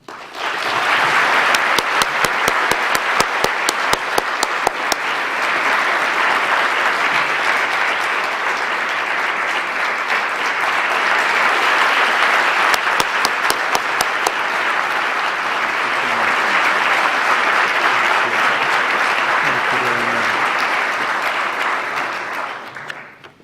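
A large audience at a Brown University event applauds steadily to welcome the Aga Khan, with sustained loud clapping and a few close, sharp individual claps that carry on for over twenty seconds before fading out.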